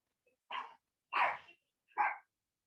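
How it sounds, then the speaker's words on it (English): A pet dog barks three times in separate short, fairly loud barks with brief pauses between them, indoors in a quiet room, with no voices alongside. "If you have your dog barking like mine"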